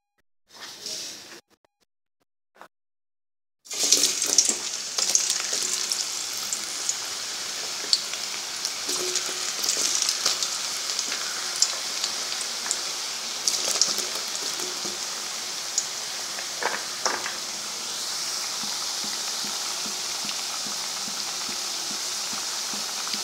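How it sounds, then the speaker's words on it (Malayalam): Raw banana slices deep-fry in hot oil for chips, a dense continuous crackling sizzle that starts abruptly after a few short bursts and near-silence, then holds steady and close with no speech. "ഇനി നമുക്കിതിലേക്ക് നമ്മുടെ കായയുടെ കഷ്ണങ്ങൾ ഇട്ട് വറുത്ത് കോരാം"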